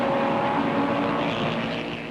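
Racing cars at Daytona, including a lead Ferrari and a Lotus Ford, roar past in a loud, continuous engine drone that eases slightly at the end, with no voices.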